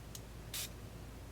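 Two quick hissing bursts from a spray bottle misting pigment over art supplies, a short faint puff followed by a longer spray, in an otherwise quiet room.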